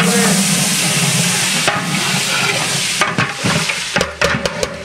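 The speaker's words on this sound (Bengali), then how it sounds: "তেল গরম, দিয়ে দেবো কেটে রাখা সবজি।" Chopped vegetables hitting hot sunflower oil set off a loud, dense sizzle that fills the first seconds, then settles as a utensil stirs and scrapes through them with a few knocks against the pan.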